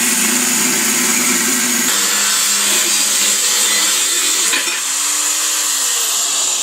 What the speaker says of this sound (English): Sawing along.